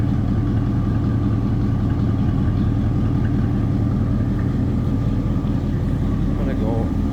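A 1961 Cadillac Series 62 Coupe idles with a steady, low, rumbling exhaust note that holds constant and close throughout, with no talking over it.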